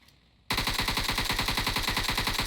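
Rapid automatic gunfire in PUBG Mobile starts abruptly after a brief quiet moment, then rattles on in a steady, loud, evenly spaced burst.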